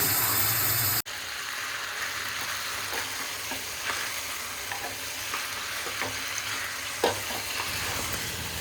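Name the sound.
fish tawa frying, sizzling on a griddle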